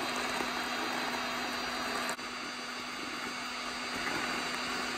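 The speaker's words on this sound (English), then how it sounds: "You do not want to get too close to the heat gun or blow dryer because you can melt the leather on the" Heat gun blowing hot air onto a leather volleyball, a steady, loud whooshing drone with a constant hum that runs unbroken apart from one brief dip, with no talking.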